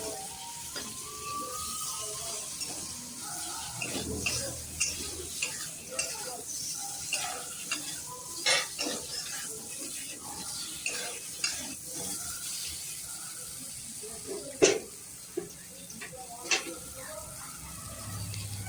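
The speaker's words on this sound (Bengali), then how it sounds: "আলুগুলো প্রায় ভাজা ভাজা হয়ে এসছে" Potatoes frying in a pan for khichuri, stirred with a utensil that scrapes and clinks against the metal in irregular strokes over a faint, quiet sizzle.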